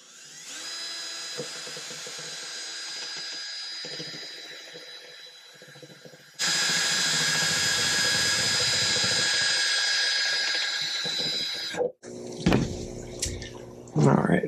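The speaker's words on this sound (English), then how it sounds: "Then I'm going to take my drill." An electric drill whirs in two long sustained runs, high-pitched and steady, then stops with a few clunks and handling noises.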